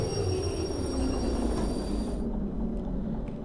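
Train in Derail Valley braking, heard as a steady rumbling roll with thin high metallic squeal tones that cut off about two-thirds through, leaving the low rumble continuing.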